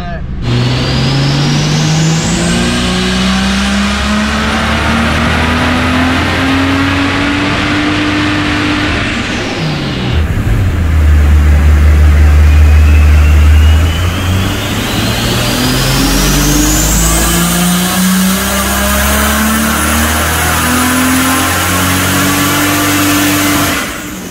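A Ford Barra turbo engine on a hub dyno revs hard in two long, loud pulls that climb steadily to the top, separated by a sudden cut and a lower, roughly idling stretch, with a turbo whistle rising alongside.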